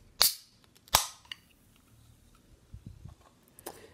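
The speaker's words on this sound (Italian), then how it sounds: "direi subito di aprire la lattina" A can of Mega Force energy drink is cracked open with two sharp, close metallic pops about a second apart, followed by faint rustling and small clicks.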